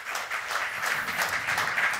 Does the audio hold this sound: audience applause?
yes